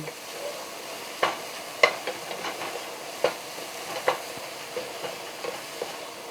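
Pre-minced garlic frying in a pan and being stirred lightly, with sharp spoon taps and scrapes against the pan at irregular intervals over a soft, quiet sizzle.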